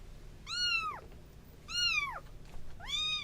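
A small kitten meows three times in clear, rising-then-falling cries spaced about a second apart, close and fairly loud against a quiet background with no talking.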